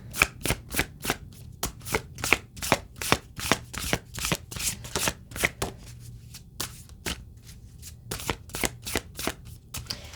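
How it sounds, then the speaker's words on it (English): Tarot cards are shuffled by hand in quick riffling bursts, a close run of crisp papery slaps and flutters with short pauses between groups and no talking. "I don't even need to keep shuffling"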